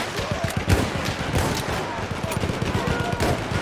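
Enemy machine gun in Battlefield 1 rattling off rapid, dense bursts, close and loud, layered with other battlefield gunfire that keeps up steadily throughout.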